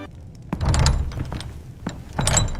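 A door is pushed shut indoors, a single dull thunk followed by a few softer knocks and rattles as it settles, close and fairly loud with no voices.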